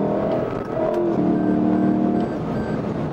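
Lexus LC 500 convertible on 21-inch wide tyres accelerating hard in sport mode, a loud steady engine roar with rising harmonic tones, close up and continuous with no talk.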